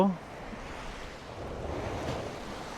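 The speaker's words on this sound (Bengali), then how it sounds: "সমুদ্রে যে ঢেউগুলো সেগুলো তীরে আসে পড়তেছে" Sea waves wash onto the shore at Futtsu on Tokyo Bay, a continuous soft roar of surf mixed with light wind buffeting the microphone, holding steady and swelling slightly toward the end.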